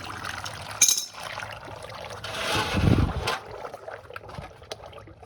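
Water drains out of the hydraulic and gear oil of a Ford 8N tractor in a faint, soft pour and trickle that swells briefly near the middle, over quiet outdoor background.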